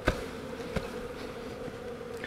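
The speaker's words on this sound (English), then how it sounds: "we're now ready to shake the bees" A steady, droning buzz of many honeybees being shaken from a package into a hive, fairly close and continuous, with a couple of brief soft knocks near the start.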